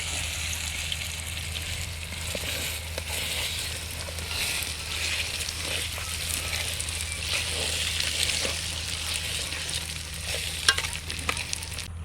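Egg curry cooking outdoors in a village is stirred with a spoon, giving a continuous close sizzle and bubbling with scattered scraping clicks and a low steady hum underneath, no talk.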